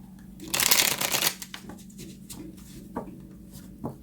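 A deck of tarot cards is shuffled close up, with a loud riffling burst followed by softer shuffles and a couple of light taps; no one speaks.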